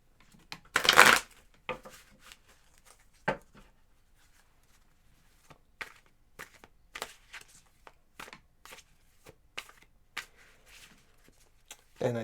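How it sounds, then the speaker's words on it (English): Tarot cards being shuffled during a reading: a loud burst of riffling near the start, then a long run of soft, scattered card slaps and rustles at irregular intervals, close and alone with no talk. "So I'm just going to go ahead and shuffle and finish the reading."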